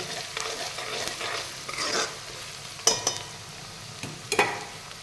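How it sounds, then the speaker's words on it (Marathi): Onions frying in a pan for masoor curry are stirred with a utensil, a continuous sizzle broken by a few sharp scraping clinks against the pan, close by and without speech. "त्याला हलवतच राहायचं, नाहीतर खाली चिकटणार ते।"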